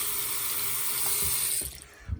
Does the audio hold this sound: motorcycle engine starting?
no